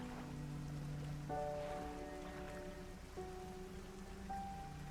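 Steady rain falls in the fishing game Dredge as a soft, even hiss, with sustained musical tones from the game's score layered over it.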